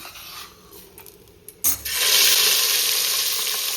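Spices tempered in hot oil for saar, a few clinks and a scrape, then a sudden loud, steady sizzle that holds close up to the end, no talking.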